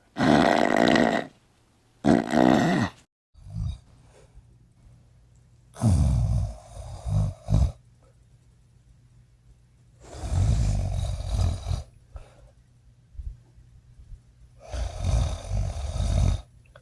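Slow, loud snoring from a woman with long rasping inhales repeating every few seconds, close by, with quiet pauses between breaths and no talking.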